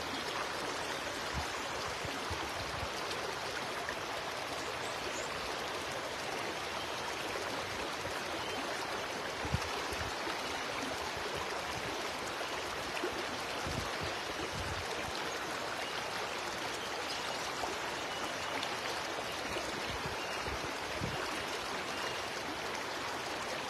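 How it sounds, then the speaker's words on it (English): Steady broadband rush of a flowing river, continuous and even throughout, with no voices or pauses. "Just listening to the river."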